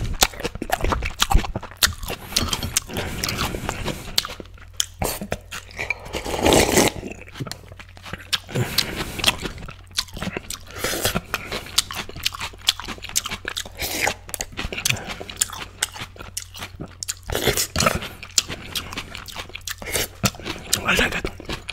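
Crunchy food, noodles and stir-fried lettuce, being chewed and bitten in bursts, with loud crackling crunches close up and scattered through the clip, and some brief voice sounds mixed in.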